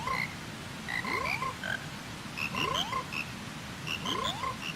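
A frog croaks in three distinct repeated calls, each a rising, wavering vocal sweep with bright harmonic chirps around it, close and clear over quiet background.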